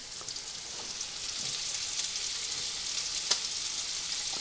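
Rice and browned orzo in a copycat Rice-a-Roni dish cooking over an off-grid setup, with plenty of liquid left in the pan, bubbling and sizzling in a steady, soft hiss with a few small pops.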